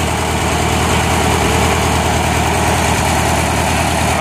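A Farmall M tractor engine idles steadily, a continuous loud, even rumble with no speech.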